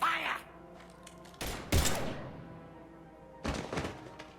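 Gunfire in the video game Mass Effect 3, heard as a few heavy thudding bursts separated by pauses, with faint background tones between them.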